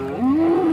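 A single HF cow at a cattle market gives a short, rising moo, close and clear, with no talk over it.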